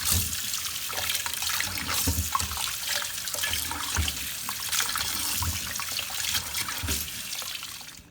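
Tap water runs steadily into a sink as potatoes are rinsed under it, a continuous close splashing and trickling with no voices.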